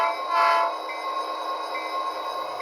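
An Athearn ready-to-run SD40R model locomotive in Southern Pacific livery whirs along its track, a steady close mechanical hum with a brief louder swell early on.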